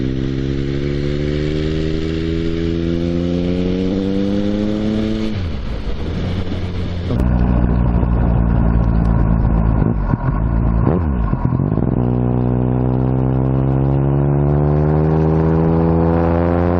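A motorcycle engine on the road changes pitch loudly as the rider drops two gears, with a steady drone, then a dip and a rev-up before it settles into rising acceleration; no voices are heard.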